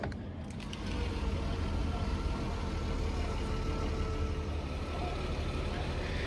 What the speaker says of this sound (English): Should we strike her up?